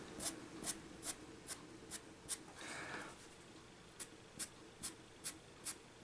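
A Derwent pastel pencil flicks raw umber colour onto paper in quick, light strokes at an even rhythm, with a longer soft rub partway through, close and quiet.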